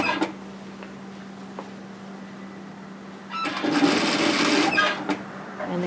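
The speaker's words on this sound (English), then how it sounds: "And then sew all the way down to the hemline." Sewing machine stitching the seam of a puff sleeve top, quiet at first, then a dense, fast burst of stitching for about a second and a half near the end.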